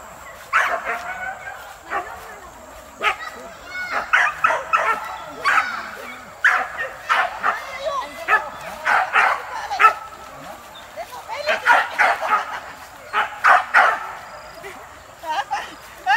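A dog barks and yips repeatedly in bursts near a village football match at Caduak, Pangian, Lintau Buo, with sharp, irregular barks and whimpers over the noise of people talking.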